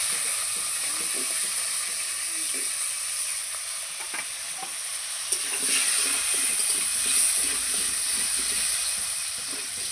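Potatoes fry in hot oil over a five-spice tempering for a fish and bottle gourd curry, giving a steady close sizzle and hiss with a few faint stirring scrapes and no talk.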